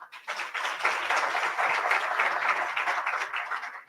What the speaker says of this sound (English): Before you sit, we can give him a better applause.